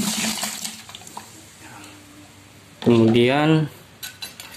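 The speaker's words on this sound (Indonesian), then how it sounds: "Kita taruhkan aja air kelapa ini ke dalam penampungan nanti yang untuk tempat fermentasinya." Coconut water poured into a container for making a natural fermented herbal fertilizer, a gurgling, splashing pour with some clinking, followed by a brief voice.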